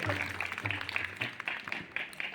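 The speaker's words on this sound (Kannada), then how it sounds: "ಒಂದ್ಸಾರಿ ಚಪ್ಪಾಳೆ ಮೂಲಕ ಅವರಿಗೂ ಕೂಡ ಶರಣಾರ್ಥಿಗಳು" An audience at a village religious honouring ceremony claps together: a patter of many hands under a speaking voice, moderately loud and brief.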